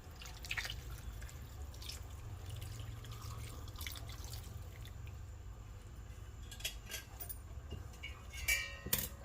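Warm water is poured into a pot of sea fish (muthe) curry and gives a steady close splashing and trickling that runs throughout, with a few clinks and a louder splash near the end.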